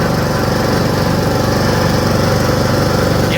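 A riding lawn mower engine runs steadily close by, a loud, even, rapidly pulsing drone with no voices over it.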